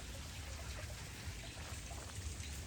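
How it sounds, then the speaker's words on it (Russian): A small natural stream runs through the park grounds of the Rockefeller estate, making a faint, steady trickling wash of water with no breaks. "Ой, как тут мило, там вот вода сбегает."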